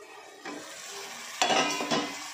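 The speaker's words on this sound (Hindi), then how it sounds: "ब्राउन होने तक इतना भुनेंगे कि प्याज का महक नहीं रहेगा।" Onions frying in oil in a pan for a jackfruit curry, with a soft steady sizzle and a few clattering stirs from a utensil, close and fairly quiet.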